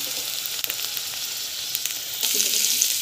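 Onion and garlic frying in hot oil in a pan while making a green chutney, a continuous close crackling sizzle that grows louder near the end.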